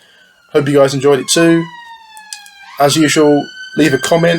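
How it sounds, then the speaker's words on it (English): Wailing emergency sirens sweep up and down in the background, faint and distant, while someone talks over them in the foreground. "Sorry about the sirens in the background there."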